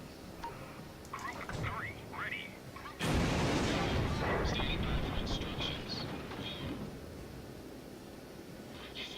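Anti-aircraft batteries on a warship blaze away at attacking bombers in the naval game World of Warships, a dense roar of rapid gunfire and blasts that builds and then holds, loud and close, with someone talking over it.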